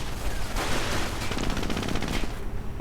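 Machine gun fire in a real-time strategy video game crackles in rapid, dense bursts, loud and continuous over a busy battle mix.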